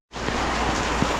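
Heavy rain pours down outdoors, a loud, dense and steady hiss that starts abruptly and continues evenly for about a second.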